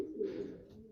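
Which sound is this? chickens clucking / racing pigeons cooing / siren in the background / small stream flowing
racing pigeons cooing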